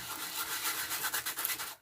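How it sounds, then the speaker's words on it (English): Emery board rubbed flat against embossed card, a quick series of dry scratchy rasping strokes, close and fairly loud with no voice. "I'm just going to show you using the flat of my emery board how I'm sanding this back."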